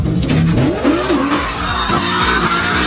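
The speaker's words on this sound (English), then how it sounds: "With the roar of the engine, the vehicle sped on the track." A Lamborghini V12 sports car roars loudly down a track, its engine note rising and falling through gear changes with a brief tire squeal, close and continuous with no talking.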